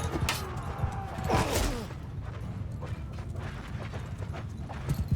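A horse gallops across a Mount & Blade II Bannerlord battlefield, its clip-clopping hooves loud and close at first, then fading into a low, steady battle rumble.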